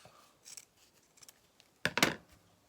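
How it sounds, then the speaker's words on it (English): A few quick scissor snips through fabric, crisp and close, the last pair loudest, with faint handling noises before them. "Just take some scissors and just round the top off."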